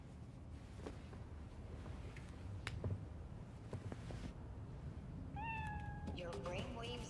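A cat in the video game Cyberpunk 2077 gives a few short meows near the end, heard over rain-like background noise and soft ambient game sound.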